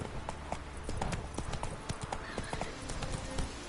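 In The Witcher III: Blood and Wine, a horse gallops with quick, rhythmic hoof clip-clops that are steady, fairly close and moderately quiet, with no clear talking over them.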